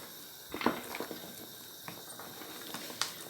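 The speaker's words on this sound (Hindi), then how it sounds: "बस इसको मैं तेज़ आंच पे भूनती हूँ थोड़ा" Lamb trotters frying in ghee or oil on a high flame, a faint sizzle with a few scattered sharp crackles and pops, heard close and quiet.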